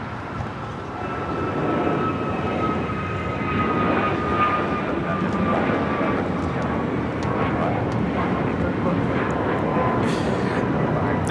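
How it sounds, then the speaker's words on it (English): American Airlines Airbus A321neo jet taking off from Los Angeles for Washington Reagan National, a sustained loud engine roar with a faint whine, continuous throughout, with voices faintly underneath. "This is American Airlines 591 taking off to Washington Reagan National on the A321neo"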